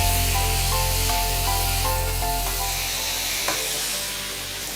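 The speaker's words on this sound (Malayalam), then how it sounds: "കൊഞ്ചിനെയും അതിനകത്തേക്ക് ഇടുന്നു. എന്നിട്ട് ഒന്ന് ഇളക്കി കൊടുക്കുക." Prawns dropped into a hot pan sizzle loudly and steadily, with light stirring clicks and scrapes, the frying hiss fading slightly toward the end; no voices.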